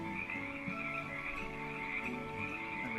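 Frogs croaking in the Song of Rapture video game: a steady, overlapping chorus of croaks that carries on without pause, soft and even in level, with no talk.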